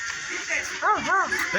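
A child imitates a dog, giving two or three short yapping barks in quick succession over a soft background murmur.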